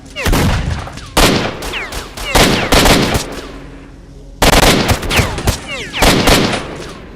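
Repeated bursts of loud, close gunfire from the video game S.T.A.L.K.E.R. Shadow of Chernobyl, sharp cracks and rapid volleys separated by short pauses.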